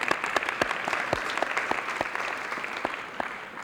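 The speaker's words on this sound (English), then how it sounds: "So we'll just give her a round of applause." Audience applause at a 1995 high school alumni hall of fame ceremony, a steady wash of many hands clapping with sharp individual claps standing out, moderately loud and fading slightly toward the end, no talking.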